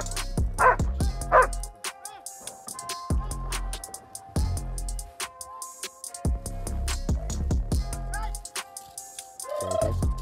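A Doberman Pinscher barks loudly and repeatedly at close range, giving deep single barks in uneven bursts with a few higher yips and whimpers between them.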